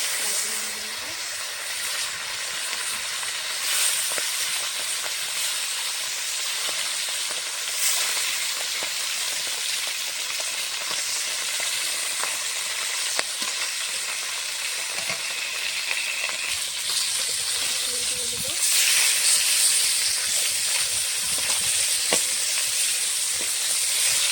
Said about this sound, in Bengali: কড়াইতে দিয়ে দিয়েছি সরষের তেল মাছ ভাজার জন্য। তেল গরম হয়ে গেছে,